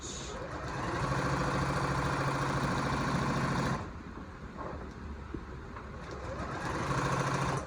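A sewing machine stitches a cloth nappy at close range, running loud and steady for several seconds, pausing briefly, then starting again for a short back-stitch run.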